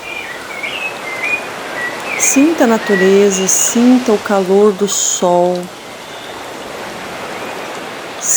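Steady broadband wash of sea waves at a beach runs throughout, with high bird chirps in the first seconds and a calm voice speaking over the middle.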